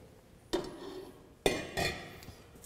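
Metal pans and a steamer basket from a premium platinum cooking system, sized 4, 3 and 1.8 quarts, clank and clink as they are handled, three distinct close metallic hits with ringing decay and no talking.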